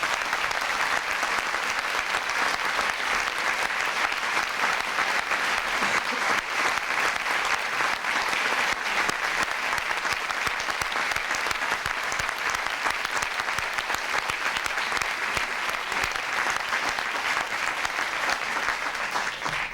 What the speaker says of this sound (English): Let's give these outstanding employees a round of applause